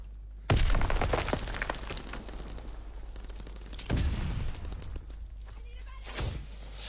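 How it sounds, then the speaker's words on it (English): Suppressed machine gun fire in Call of Duty WWII, an airborne soldier's weapon, comes in three short bursts spaced a few seconds apart over steady background game noise, with a player talking at times. "I'm an airborne guy now, so I've got a shitty gun. No, machine gun. It's got a suppressor on it."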